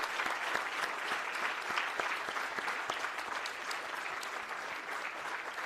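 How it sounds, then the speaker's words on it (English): Graduation convocation audience claps in sustained, dense applause, loud and steady throughout with no pauses. "give the people who helped you on this journey a wonderful round of applause"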